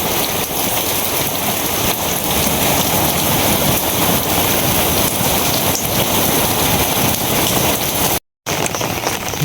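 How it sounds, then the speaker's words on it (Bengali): Heavy rain pours steadily during a monsoon downpour amid flooding, a dense, loud, unbroken hiss of drops on surfaces with one brief dropout near the end and no voices. "বৃষ্টি শুরু হয়ে গেছে আবার"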